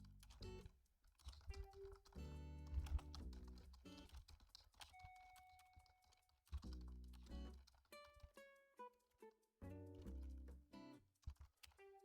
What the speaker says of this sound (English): typing is very hard